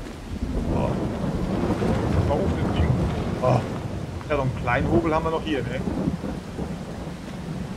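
Heavy rain with rolling thunder in a farming video game: a dense, loud wash of rainfall and deep rumbling that continues steadily while people speak German over it.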